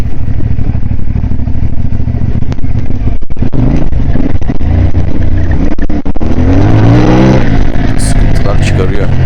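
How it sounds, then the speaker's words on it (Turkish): CF Moto 450 MT motorcycle ridden at night in a forest: close, loud engine and exhaust revving in rising surges with clattering over rough ground, while someone talks over it. "Motorun torkuyla birlikte egzoz gerçekten insanı baştan çıkarıyor."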